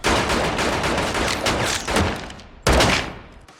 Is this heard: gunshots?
yes